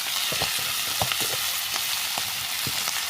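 Chicken meat sizzles and fries steadily in hot oil, a dense close crackle running throughout, with a few soft utensil scrapes and stirs breaking through.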